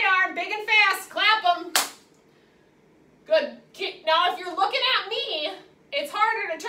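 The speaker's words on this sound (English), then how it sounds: "Right arm, big and fast, clap them." Hands clapping in a fast, energetic burst during a high-intensity exercise class for people with Parkinson's, heard between stretches of an instructor talking nearby.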